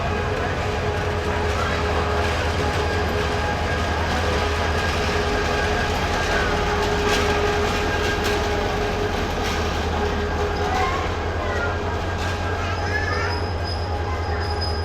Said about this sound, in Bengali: এই হচ্ছে আমাদের নাসিরাবাদ এক্সপ্রেস